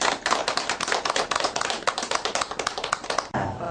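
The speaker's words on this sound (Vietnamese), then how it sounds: "Rồi vỗ tay." Hands clap rapidly and continuously during a Buddhist chanting ritual, a dense run of crisp, fairly close claps from a group that stops abruptly near the end.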